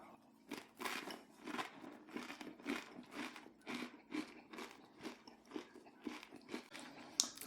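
Crisp, repeated crunching of a low salt Triscuit cracker topped with Prairie Tomme cheese, about a dozen rhythmic close bites and chews with no talk.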